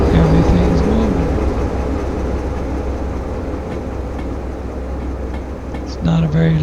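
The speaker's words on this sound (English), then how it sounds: "Make sure all these engines are running." Locomotive engines in the train game Derail Valley run steadily as a continuous low rumble and rolling hum, with a brief louder swell near the end and a person talking over it.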